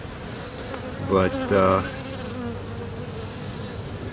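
Steady drone of honey bees buzzing close by on a hive frame, with a couple of louder bursts as some fly near, and a brief spoken word.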